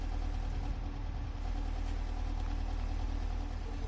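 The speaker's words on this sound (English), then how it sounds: "This appears to be Lady Boffington's car" A video game car engine idles steadily with a low, continuous rumble and faint mechanical knocking, no voices over it.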